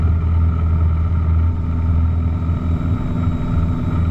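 A small airplane's engine drones at full power during a crosswind takeoff at Lubbock International Airport, a loud, steady, low-pitched roar filling the cabin without pause.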